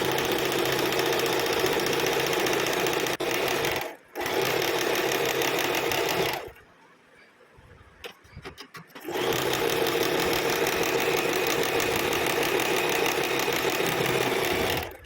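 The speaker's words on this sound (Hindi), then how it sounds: "इस तरह से यहाँ पे एक पैर का मार्जिन देते हुए एक और सिलाई लगा लेंगे।" A sewing machine stitching a kurti seam, with loud, close, continuous motor whirring in long runs, broken by a short stop and a longer pause with a few clicks before stitching resumes.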